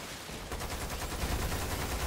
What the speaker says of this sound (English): that's a powerful ass shot